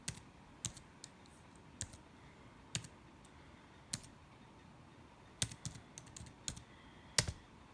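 Typing on an iPad keyboard case: scattered, hesitant key clicks with irregular gaps, close and fairly quiet against a soft background hiss.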